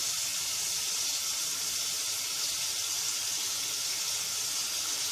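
Wontons are dipped into hot water, giving a steady, close hiss with a faint bubbling, sizzling texture that stays even for the whole stretch, with no voices.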